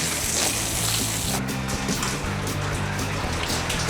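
A garden hose sprays water over a house roof during a leak test, a continuous loud hiss and spatter of water striking the surface, steady throughout with no talking.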